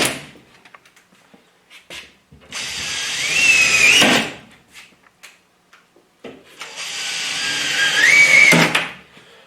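A power drill drives screws into the top edge of a drywall sheet near an electrical box, with two loud, sustained whirring bursts of about one and a half seconds each, rising in pitch as the screw seats, separated by quieter handling knocks.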